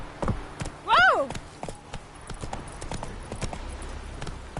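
Roach the horse walking in a video game, a loose rhythm of hoof clip-clops close by, with a short vocal exclamation breaking in early.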